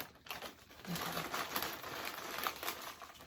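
A snack package wrapper is torn and crinkled open by hand, producing close, continuous crackling and ripping bursts with a few sharper snaps.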